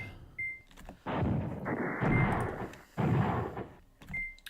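Command Ops 2 artillery bombardment rumbles in long, heavy waves of booming fire, two sustained roaring barrages separated by a brief lull, with short clicks before and after.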